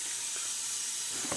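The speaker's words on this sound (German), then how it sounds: "Die dampfen schon." Steam hisses from a hot cooking pot in a video game, a quiet, steady, airy wash with a couple of soft thuds near the end.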